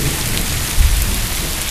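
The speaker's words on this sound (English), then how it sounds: "Wow, that's really cold rain though." Cold rain pours steadily on a rainy afternoon, a dense, even hiss of drops close by, with a brief low rumble in the middle.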